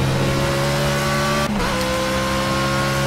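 Race car engine in the Project CARS racing game, holding a loud, steady high-pitched drone with a brief dip mid-run as it shifts, no voices.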